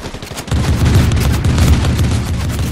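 Rapid bursts of turret gunfire in a video game, loud and close, a dense rattling fusillade that starts suddenly and keeps hammering without a break.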